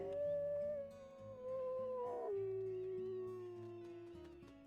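Wolves howling in the video game WolfQuest, a long tonal howl gliding downward, layered with other howls and a soft musical background, loud and sustained throughout.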